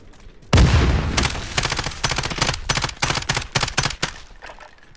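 A recoiling automatic gun fires in Call of Duty: Modern Warfare, one loud opening blast followed by a rapid, uneven string of close, sharp shots in several bursts.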